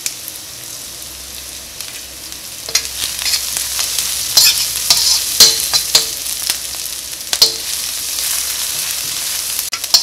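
Onion, curry leaves and dried red chilies fry in oil in a pan for rava upma, crackling and sizzling steadily while a spoon stirs and scrapes with sharp, repeated clicks close by.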